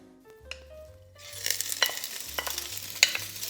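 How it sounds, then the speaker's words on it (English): Sweet Italian sausage hits two tablespoons of olive oil in a Dutch oven over medium heat. Quiet tones and hum give way to a sudden rising sizzle with sharp spoon scrapes and clicks. "I'm going to add 2 tablespoons of olive oil to that. And we're going to do 1 pound of sweet Italian sausage"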